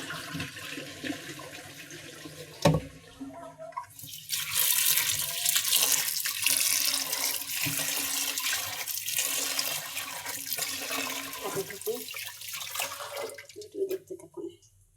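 Tap water runs steadily into a bowl while lentils (dal) are rinsed in a home kitchen, a broad close wash of water lasting several seconds, with some handling clatter before and after.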